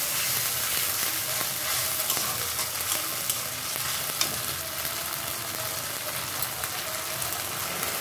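Ginger and garlic paste fries in a pan for a quick biryani, giving a steady, dense sizzle that holds evenly throughout with a few faint stirring scrapes and no voices.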